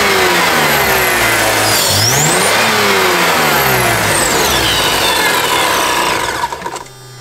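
Supercharged car engine, a G Power tuned car, revving steadily and loudly up close, pitch rising and falling with a whining compressor tone over it, then dropping off at the end.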